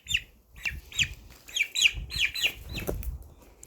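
Repeated short clucks from a chicken feeding close by, several in an uneven run with soft rustling and low thumps underneath.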